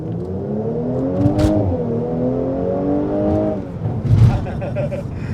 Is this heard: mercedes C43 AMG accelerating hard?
yes